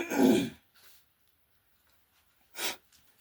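A slight sniffle caught during a head cold, heard as a loud snorting burst, a fainter follow-up, then quiet before another short sharp sniff near the end, with no talking.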